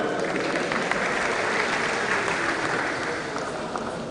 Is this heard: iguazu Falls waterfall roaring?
no